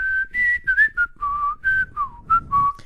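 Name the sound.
person whistling through their nostrils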